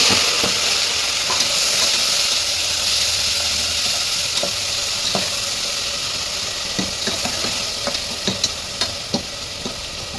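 Onions and tomatoes frying in a pan with garam masala, a continuous loud sizzle with scattered clicks of stirring throughout, no voices.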